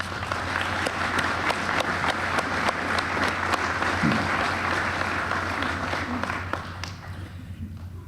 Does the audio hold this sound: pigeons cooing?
no